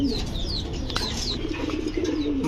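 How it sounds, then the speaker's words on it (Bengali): A fancy pigeon at a Bangladeshi farm coos in low, soft rolls close by, alongside faint chirps and a brief wing flutter from other birds, with no voices. "খুবই সুন্দর একটা কবুতর"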